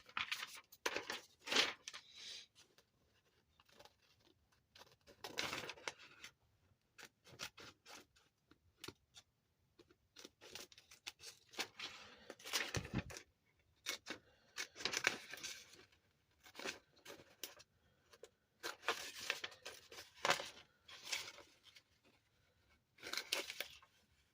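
Aluminum sheet being cut out for a handmade Ferrari body, a long run of short crinkling, snipping bursts in uneven clusters with brief pauses, close and moderately loud.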